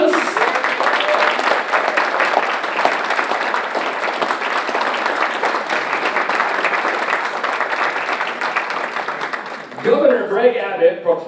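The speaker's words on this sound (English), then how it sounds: "give them a big round of applause" Sustained applause from an audience at a school board meeting fills the room steadily for about ten seconds, then fades as a voice begins speaking.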